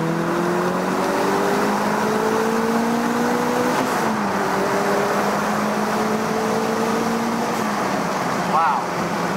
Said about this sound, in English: Maybe we'll just roll into third and just have a long third gear.